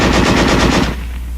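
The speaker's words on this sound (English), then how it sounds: "Weapons giving automatic fire will fire continuously as long as pressure is applied to the trigger" An automatic weapon fires a rapid, continuous burst of loud shots, then the firing stops and leaves a ringing echo.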